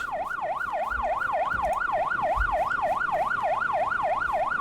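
An ambulance siren wails at a fast, regular rising and falling rhythm, steady and fairly clear at a moderate distance, with faint traffic rumble beneath and no talking.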